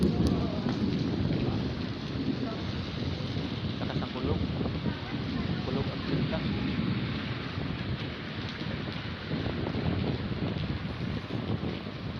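Rain patters steadily while low thunder rumbles with lightning over Manila, with gusty wind buffeting the microphone throughout.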